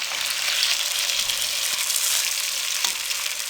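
Besan khandliyan fry in a pan over low flame, giving a steady, close, bright sizzle throughout with a couple of faint stirring clicks.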